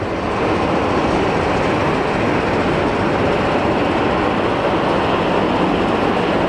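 Boeing 777 airliner engines spinning up on the ramp at Phoenix Sky Harbor Airport, a loud, steady broadband roar and rumble that holds constant throughout with no talk over it.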